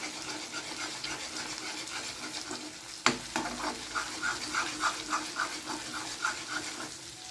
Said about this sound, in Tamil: இதை நம்ம அப்படியே கிண்டிக்கிடுவோம்.